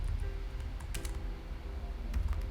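Keys clack on a computer keyboard while a maths equation is typed into a note-taking app, a few quick, close taps in an irregular rhythm over a low background hum, with no talking.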